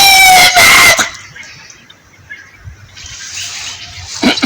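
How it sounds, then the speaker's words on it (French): A rooster's crow rings out at the start, followed by quiet background and a faint rustle, ending with a brief sharp sound. "Monsieur le coq."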